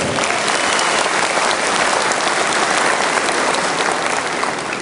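Loud, dense applause from a large crowd at an AK Party political rally presenting its candidates, continuous and even throughout.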